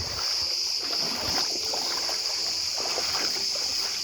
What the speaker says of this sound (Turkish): Bu bizim hem keyif hem balıkçı teknemiz oluyor.